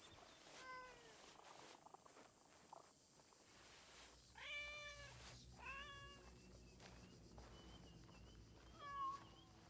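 A cat in Assassin's Creed Shadows lets out several short, rising meows in scattered bursts over a faint, quiet background.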